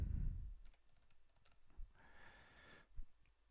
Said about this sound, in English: now I'll type in Arthur,